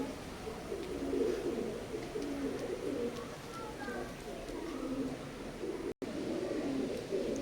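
Omani bloodline teddy pigeons coo in soft, low repeated calls close by, under steady background noise and some nearby talk.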